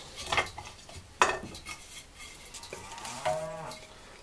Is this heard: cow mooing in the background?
yes